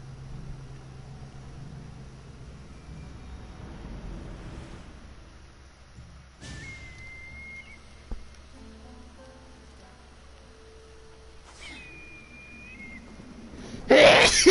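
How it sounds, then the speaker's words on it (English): A person lets out one sudden, loud sneeze right at the end, after a long quiet stretch of soft ambient tones and low background hum. "Oh god, I sneezed on myself."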